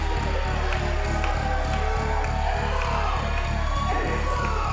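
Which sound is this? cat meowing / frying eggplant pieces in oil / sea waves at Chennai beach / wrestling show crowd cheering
wrestling show crowd cheering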